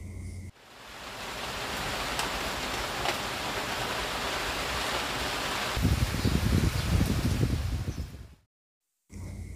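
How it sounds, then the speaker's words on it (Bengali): Heavy rain pours outside, heard as a dense, steady wash of noise that thickens and grows louder partway through before cutting out briefly near the end, with no voices. "এমন ঝুম বৃষ্টি হচ্ছে বাইরে"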